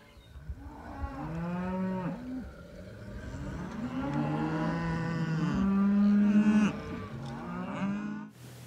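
Cattle held in a small panel branding trap built in a fence corner, mooing and bawling repeatedly in long, loud overlapping calls close by, with several animals calling one after another.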